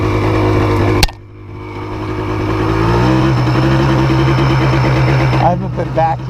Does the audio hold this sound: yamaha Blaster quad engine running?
yes